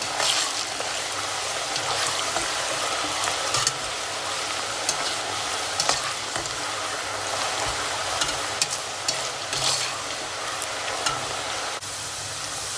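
Continuous crackling sizzle of potatoes frying in hot oil, with occasional scraping stirs and no talking.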